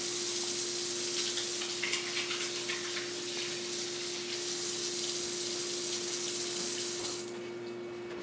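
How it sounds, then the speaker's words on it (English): Tap water runs steadily into a sink as hands are washed in a clinic room, a constant close hiss holding for about seven seconds before stopping abruptly, with no talking. "I'm just going to wash my hands real quick"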